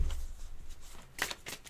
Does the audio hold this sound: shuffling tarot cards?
yes